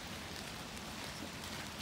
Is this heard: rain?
yes